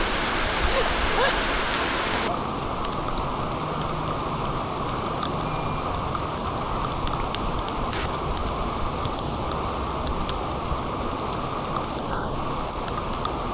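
Steady, dense rain falls throughout a ride in New Zealand, a continuous hiss of drops on surfaces with a rushing undertone, loud and close with no letup.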